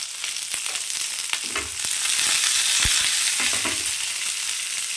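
Fennel and fenugreek seeds crackle and fry in oil for a fish curry, a dense sizzling hiss that swells louder midway, with a few utensil knocks and scrapes.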